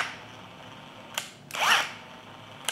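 A Tekiro CD-ID2071 cordless brushless impact driver fires in short whirring bursts: a brief spurt, then a longer, louder run, then another quick blip, each stopping dead against a quiet background.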